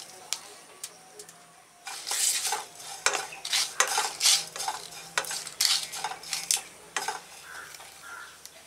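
Bitter gourd tossed into a pan of fried five-spice seeds, bay leaf and dried chillies over medium gas, cooked without oil, heard as repeated quiet scraping and clattering utensil strokes with faint sizzle between them.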